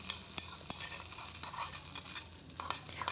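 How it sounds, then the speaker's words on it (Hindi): Hot tempering is poured into a peanut and coconut chutney and stirred, giving faint sizzling along with soft scraping and clicking spoon sounds that come in quick, irregular bursts. "अब इसमें हम छौंक लगा देंगे और इसको अच्छे से चला देंगे।"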